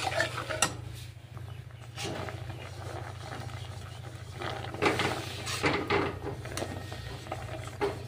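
A mesh dish scrubber rubs and scrapes across a burnt, greasy wok in a home kitchen, with uneven scratching strokes and occasional metallic knocks over a steady low hum.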